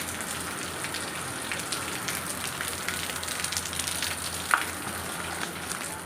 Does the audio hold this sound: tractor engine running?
no